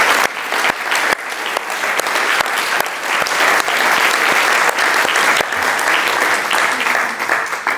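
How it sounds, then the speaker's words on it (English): Audience at an Oxford Saïd Business School panel event gives a big round of applause, with dense, sustained clapping that stays loud through the whole stretch. "a big, big round of applause to Norway for recognizing the state of Palestine"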